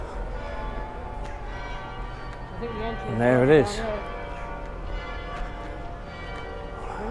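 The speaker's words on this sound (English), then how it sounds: "Ringing the bells?" Church bells ring near the Menin Gate in Ypres, beside the cathedral and a grand clock building, swelling briefly into a louder peal midway through the clip. People talk throughout and the street is busy.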